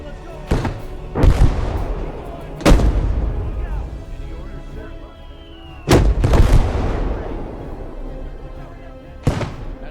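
Artillery fires in the World War II strategy game Gates of Hell, with several loud, deep booms spaced a few seconds apart, each trailing off in a rumbling decay over a low background of battle noise.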